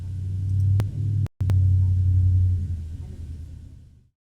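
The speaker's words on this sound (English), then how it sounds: "You guys probably heard that girl that lives here with her loud truck" A neighbor's loud truck rumbles outside, a deep heavy engine drone broken by a couple of sharp clicks and a brief dropout before fading away.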